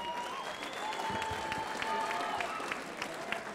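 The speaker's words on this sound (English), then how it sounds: "Ladies and gentlemen, give these two fighters one more round of applause." Crowd applause and cheering for two fighters after a championship cage-fighting bout, steady dense clapping with scattered whoops and voices throughout.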